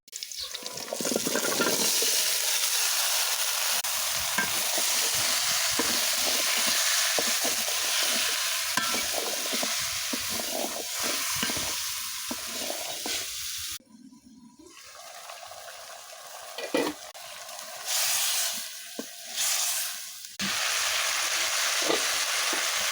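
Vegetable curry sizzles and is stirred in hot oil with cumin, onion and green chili, a loud continuous frying hiss with scraping stirs and a brief quieter lull midway.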